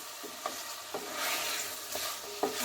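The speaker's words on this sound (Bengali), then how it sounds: "মাংসটা আমি একটু সময় নিয়ে ভালো করে কষিয়ে নেব" Desi chicken meat sautés in a pan, a soft continuous sizzle with rhythmic scraping strokes of a spoon stirring roughly every half second, fairly quiet and close.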